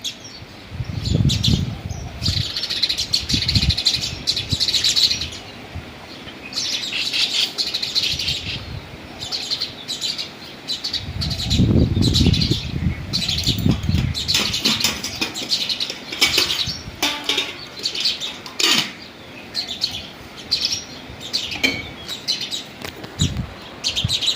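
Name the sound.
sparrows chirping and flapping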